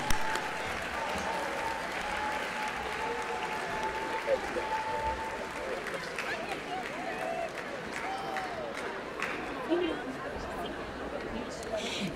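An audience at a Teacher of the Year banquet applauds the region's educators, with sustained, even clapping filling the room for the full stretch and faint crowd chatter underneath.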